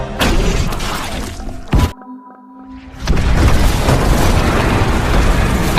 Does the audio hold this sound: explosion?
yes